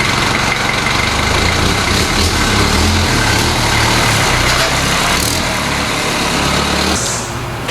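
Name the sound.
1988 Toyota Land Cruiser engine while driving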